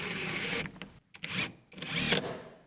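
A power drill drives screws into a window frame during a 20x30 workshop build, whirring close and loud in several bursts with brief pauses between.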